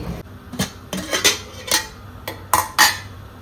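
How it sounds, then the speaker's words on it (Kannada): Fresh homegrown produce is chopped for a lunch rice dish, a series of sharp knife taps and clinks against a board or dish sounding close and moderately loud, with no speech. "ಇವಾಗ ಇದನ್ನು ಕಟ್ ಮಾಡ್ಕೊಳ್ತೀನಿ"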